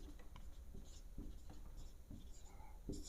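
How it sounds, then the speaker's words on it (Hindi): A pen or chalk writes out an explanation in a classroom lesson, giving quiet, close scratching strokes in short bursts, faint and without speech. "तो यहाँ पे लिखेंगे"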